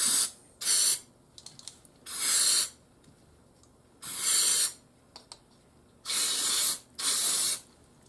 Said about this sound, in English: Now I'm just going to wash this stuff up with some contact cleaner real quick.